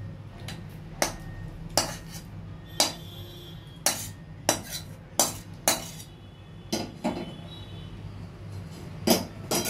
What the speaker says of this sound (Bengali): আমি এটা সার্ভ করার জন্য প্লেটে ঢেলে দিচ্ছি।